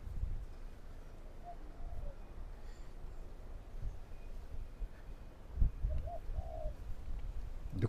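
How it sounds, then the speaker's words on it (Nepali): A dove coos on a Melbourne street, with two soft, faint coos rising over a low street rumble and distant traffic. "ढुकुर कराउँदैछ साथीहरू।"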